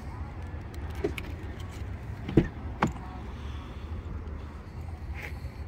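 A GMC Denali pickup truck door unlatches and swings open with a couple of sharp clicks and a thunk over a low engine idle, keys jingling faintly.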